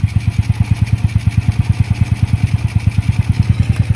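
A Honda Wave 100 motorcycle engine idles after carburetor tuning, putting out a steady, rapid, even thump close by with no voices.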